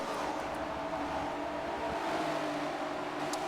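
Race cars in Forza stream down a straightaway near the pit wall, a steady dense engine drone with a faint higher whine, no one talking over it.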